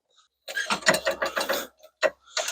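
A mechanical jack lifting a Range Rover L322 SUV, producing a quick run of close, loud ratcheting clicks and clanks in short bursts with brief pauses.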